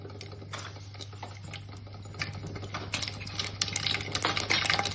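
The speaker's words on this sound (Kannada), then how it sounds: "ಸಾಸಿವೆನ ಹಾಕ್ತಾ ಇದ್ದೀನಿ" Mustard seeds splutter in hot oil for biryani, a fast crackly pattering of tiny pops that grows busier and louder over a steady low hum.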